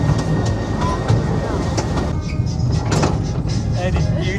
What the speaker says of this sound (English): Love a good train ride.